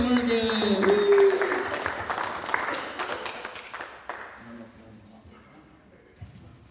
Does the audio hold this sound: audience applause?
yes